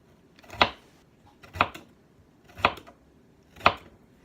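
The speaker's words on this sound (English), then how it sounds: "I think I want to do a real thin slice" A knife cuts thin slices of food on a cutting board, four crisp separate chops about one second apart, close and clear with quiet gaps between them.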